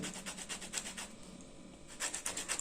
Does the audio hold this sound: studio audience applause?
no